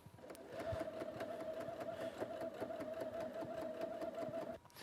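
A sewing machine stitches along quilt binding, its steady rapid whirring hum running continuously and close for several seconds before stopping abruptly.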